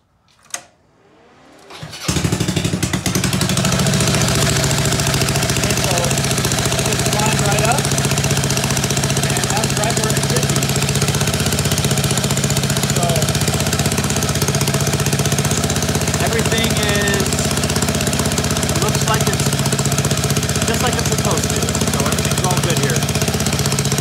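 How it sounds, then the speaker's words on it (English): A Roketa GK-19 250cc Chinese dune buggy engine cranks briefly, catches, and settles into a loud, continuous, close-up running drone with a rough, chattering texture that holds steady throughout. "let me actually start the buggy real quick and let's just make sure everything goes into place"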